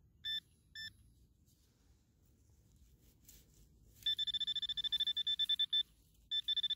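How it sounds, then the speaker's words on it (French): Metal detector pinpointer switched on near a shallow surface target outdoors: two short electronic beeps, then a rapid run of repeated bright beeps, a pause and more beeps, clear and close over quiet background. "Donc là je prends le pointeur, je l'allume."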